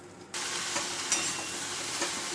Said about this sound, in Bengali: এবার আমি ঝিঙেগুলো দিয়ে দেবো